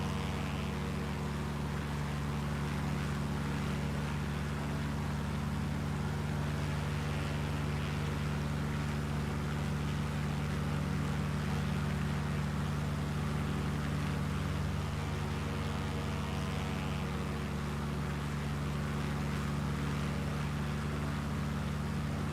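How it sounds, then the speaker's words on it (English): A light plane's engine holds a loud, steady drone after the throttle is opened, with a constant propeller hum and no talk, on a mountain flight along the Mille Miglia route. "I added more throttle now."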